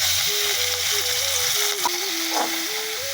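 Shrimp frying in a pan, a steady, soft sizzling hiss that runs throughout, with a faint tonal melody in the background.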